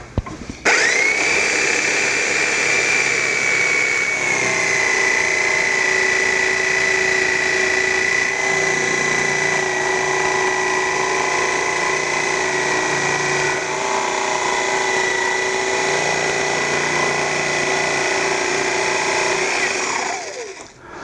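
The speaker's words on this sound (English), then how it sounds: "I can start with a jigsaw" A jigsaw runs steadily for about twenty seconds while cutting an opening by hand in a router table, with a loud, close whine that spins up at the start and winds down at the end.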